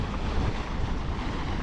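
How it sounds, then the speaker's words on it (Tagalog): Sea waves wash along the open shore with wind rushing across them, making a loud, constant roar that fills the short stretch without any voices. "Mismong dagat na po yan."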